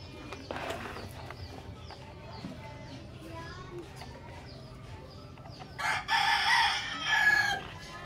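A rooster crows loudly near the end, following several seconds of quieter farmyard clucking and background chatter.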